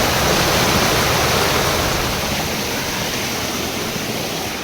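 Rainy-season spring water runs in a small stream, a steady, loud broadband rush of flowing water that stays constant and close throughout, with no voices.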